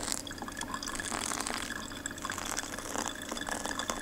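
Water trickles steadily over coffee grounds during a pour-over, a soft, continuous close liquid pour with faint dripping and no voices.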